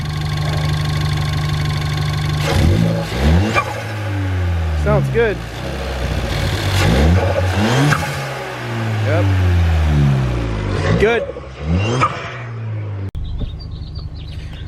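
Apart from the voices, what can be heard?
car engine revving with turbo blow-off valve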